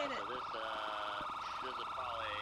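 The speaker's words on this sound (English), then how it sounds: "Did they leave the sirens on, or did it stop?" An ambulance siren in the video game GTA V wails continuously in rising and falling sweeps, loud and close, with no voices over it.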